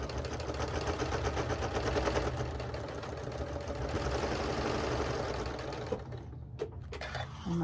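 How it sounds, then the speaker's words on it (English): Sewing machine top stitching a notebook cover, a rapid even mechanical chatter of needle strokes running close and steady for about six seconds before stopping, followed by a short whir as it starts again. "I'm just going to start stitching"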